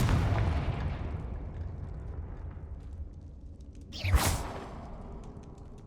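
A Confringo fire spell blast in Hogwarts Legacy erupts as a single loud whooshing burst near the end, rising out of a steady low rumble of game ambience.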